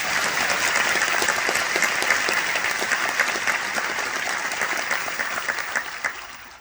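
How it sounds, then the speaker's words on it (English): Audience at an Irish citizenship ceremony applauding the band and harpist, a sustained, even round of many hands clapping in a large hall, slowly thinning toward the end. "So I would ask you to give all of them another round of applause"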